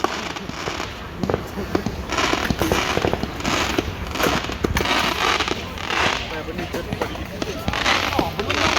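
Cheap fireworks going off at a Toronto Victoria Day celebration near a skate park, a steady run of crackling pops and bangs at moderate distance, with people talking and cheering over them.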